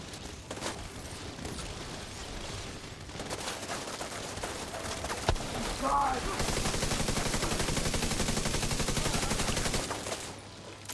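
Rapid weapon fire from a player's guns in the shooter game Destiny, a dense, sustained burst of loud shots with brief gaps, swelling into continuous volleys near the end.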